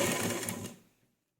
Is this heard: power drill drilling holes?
no